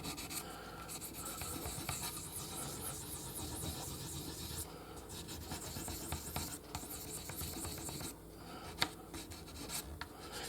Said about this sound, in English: we're just using this sandpaper here that's not, barely got anything left in it